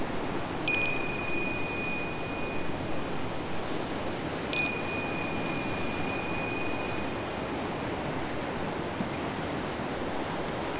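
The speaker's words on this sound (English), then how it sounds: "calming chimes" Two meditation chimes are struck a few seconds apart, each ringing out with a clear, sustained tone that slowly fades over a constant wash of ocean surf.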